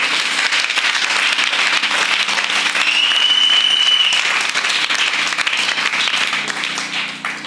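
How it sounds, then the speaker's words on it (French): A church congregation bursts into sustained, loud applause for the Lord, dense clapping filling the space for several seconds before slowly tapering off. "Est-ce qu'on peut acclamer pour le Seigneur?"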